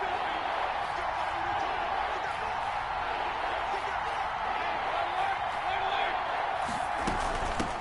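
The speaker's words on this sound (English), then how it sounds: "the crowd getting into it as we come up on a big third down" Stadium crowd noise in a Madden football video game swells steadily as a big third down approaches, a broad constant roar with some whoops, sitting beneath a play-by-play commentator's voice throughout.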